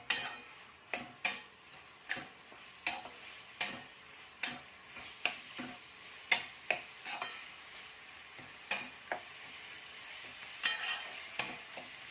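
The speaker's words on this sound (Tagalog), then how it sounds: "Ihalo hanggat sa ma-brown yung minced pork." Minced pork sizzles in a pan while a utensil stirs and scrapes in a steady rhythm of sharp clinks, close and moderately quiet.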